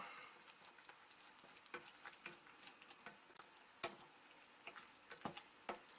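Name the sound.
stirring rice into porcupine meatball mixture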